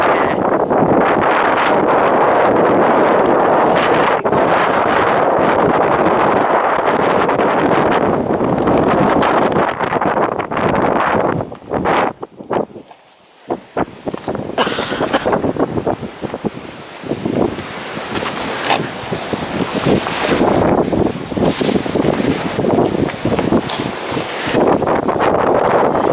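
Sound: strong wind

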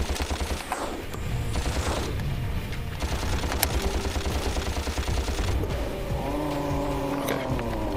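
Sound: shooting in the video game Ratchet & Clank

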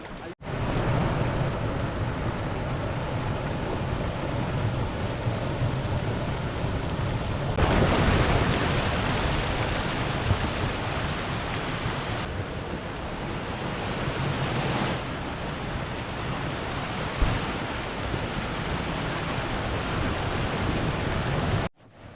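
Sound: river water flowing in a forest

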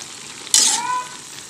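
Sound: stirring breadfruit cooking in coconut milk in a pan

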